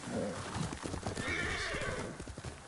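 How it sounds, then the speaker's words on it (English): A horse in Ghost of Tsushima whinnies and gallops in a brief, dense burst of hoofbeats and neighing, fairly quiet and set against ambient game sound. "we will call the horsey"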